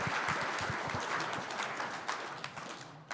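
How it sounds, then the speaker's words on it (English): Scattered clapping from a modest group, fairly faint and distant, a continuous patter that thins slightly toward the end. "if you guys want to give these guys a round of applause"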